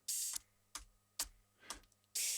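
Five crisp, hissy cymbal hits at an uneven pace; the first and last ring out longer and brighter, like an open hi-hat.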